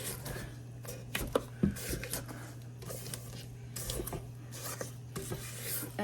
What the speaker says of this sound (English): scrape, because I can see that there's white sugar that's not incorporating into the butter